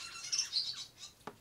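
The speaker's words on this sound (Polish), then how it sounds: "Akurat teraz zaczęły ptaszkory." Birds outdoors give a few bright, high chirps and squawks in a short, uneven burst, fairly faint and with no talking.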